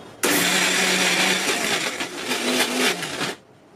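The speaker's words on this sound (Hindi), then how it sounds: "4 आइस क्यूब लिया है, ये भी अंदर डाल देंगे और इसे ग्राइंड करेंगे।" An electric mixer grinder whirs loudly and steadily for about three seconds, grinding soaked lentils with ice cubes into dahi bhalle batter, starting abruptly and cutting off at the end.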